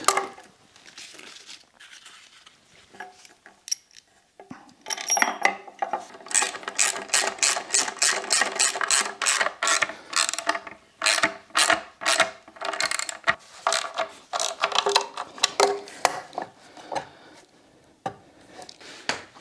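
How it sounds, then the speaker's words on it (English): A ratchet wrench drives bolts into the legs of a Sjobergs Elite 2000 workbench, giving long runs of rapid, crisp clicks close by. Brief pauses and a few clanks break up the clicking. "Okay, bolt on these legs."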